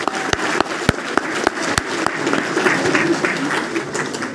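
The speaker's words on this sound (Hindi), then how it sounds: "एक बार जोरदार ताली, जोरदार ताली।" A seminar audience applauds enthusiastically, a dense wash of many hands clapping together, with a few sharp, isolated claps standing out near the start.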